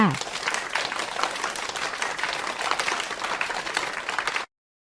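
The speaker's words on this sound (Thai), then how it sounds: "นักเรียนปรบมือให้กับจินดาหน่อยค่ะ" Primary school students in a classroom clap for a classmate, a burst of quick, scattered clapping that stays steady for about four seconds and then stops abruptly.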